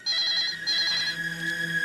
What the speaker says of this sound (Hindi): इतनी रात को हमारे वहाँ कौन फोन कर सकता है?